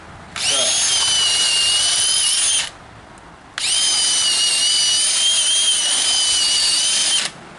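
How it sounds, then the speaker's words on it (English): Two long, loud bursts of a power drill boring deep into a wooden timber post of a porch swing frame, each lasting a couple of seconds or more, close and steady with a short pause between. "Now we'll drill all the way to the depth for that."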